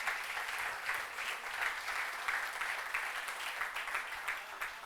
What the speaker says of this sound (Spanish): Denle un fuerte aplauso al Señor en esta mañana